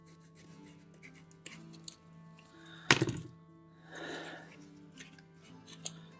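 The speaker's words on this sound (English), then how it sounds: "I'm just gonna cut off this in a regular shape because I don't like it" Small scraps of trash material are cut and trimmed by hand into shape for a miniature Gaslands barricade, giving soft rubbing and snipping sounds with one sharp close thunk.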